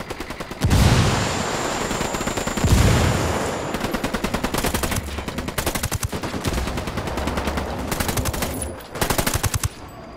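A cartel firefight in Ghost Recon Wildlands brings heavy automatic gunfire, rapid rhythmic bursts of machine-gun fire punctuated by a couple of deep booming blasts, loud and close with almost no talk.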